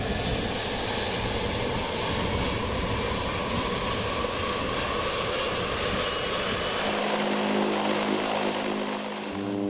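Steady, loud propeller aircraft engine roar inside a skydiving plane, a continuous droning rumble with wind noise that shifts pitch near the end as the engine note changes, and no talk.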